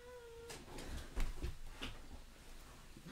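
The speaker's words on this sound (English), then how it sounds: "I got a cat here meowing at me." A cat meows faintly indoors, a few short calls spread across the clip against a quiet room background.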